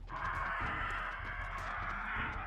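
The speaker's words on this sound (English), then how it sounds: "How many freaking birds are outside?" Birds caw outdoors in the survival game 7 Days to Die, a faint, steady distant chorus sitting under a constant hiss of ambience.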